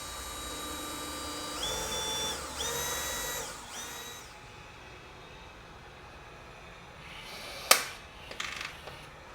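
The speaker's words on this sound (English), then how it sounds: "you are going to need to drill a couple little 1/8" holes in your bumper reinforcement" A drill whines in two short bursts while boring small 1/8 inch holes in a C7 Corvette bumper reinforcement. Quieter shop sounds follow, then a sharp metallic clink and some light rattling.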